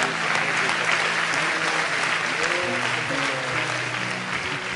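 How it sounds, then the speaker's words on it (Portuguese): A church congregation breaks into steady, dense applause, sustained at an even level for several seconds, with faint voices murmuring underneath. "Pode aplaudir ao Senhor."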